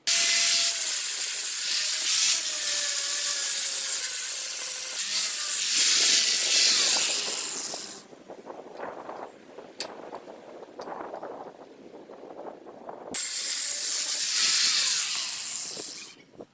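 Power tool, likely an angle grinder, scouring rust from welded steel joints on a garden fireplace frame, a harsh steady hiss for several seconds, dropping to lighter scraping and ticking, then surging back loud and close.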